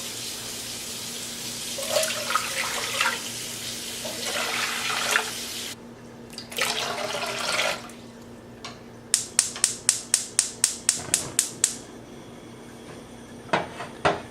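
Water splashes from a tap into a pot in a few uneven bursts, followed by a quick series of sharp ticking clicks.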